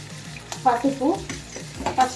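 Turmeric and spices fry in a pan after curry leaves, giving a low sizzle with several soft stirring scrapes and clinks at an uneven pace, close by, with no talking.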